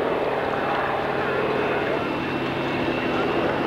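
A propeller airplane passes at the 1991 Dayton Air Show as part of the Tora Tora Tora demonstration, a steady droning engine roar that stays constant throughout.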